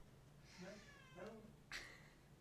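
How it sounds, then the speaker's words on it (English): A quiet cat meows twice in drawn-out calls, followed by a short sharper sound, faint and somewhat distant. "All you're going to hear is a meow"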